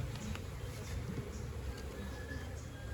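Honeybees at an open beehive in an apiary during a honey harvest, a steady low buzzing drone that fills the whole clip at moderate level, with no talk.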